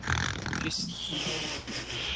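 A voice imitates snoring with a few rough, nasal rattling breaths, performed close and fairly quiet during a livestreamed pony roleplay.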